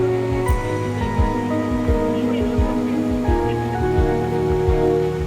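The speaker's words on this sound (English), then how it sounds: "We got a water show. Let's go check that out." Fountain water show near the Petronas Towers in Kuala Lumpur, a steady close wash of splashing water with regular rhythmic pulses and a sustained tonal hum underneath, continuous throughout.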